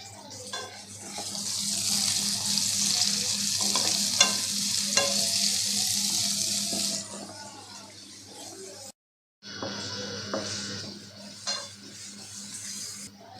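Chopped onion sizzles in oil in a pan, a steady close frying hiss with occasional spatula scrapes and clinks. It cuts out briefly near the end, then returns more softly.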